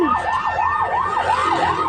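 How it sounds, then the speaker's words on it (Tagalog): Fire truck siren wailing in a fast, repeating up-and-down sweep, loud and close, near a fire in San Mateo, Rizal, with steady road and traffic noise underneath. "Ayan na naman, may fire truck na naman."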